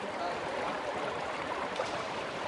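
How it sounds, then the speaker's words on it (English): Water poured over a stone altar makes a steady, continuous splashing and trickling rush, close and even in level throughout with no pauses. "Elijah told the helpers to pour water all over the altar"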